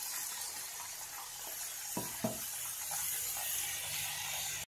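Spice masala sizzles and hisses steadily in a pan as water is added, with a couple of brief clinks and faint scraping over a continuous bright fizz that cuts off abruptly.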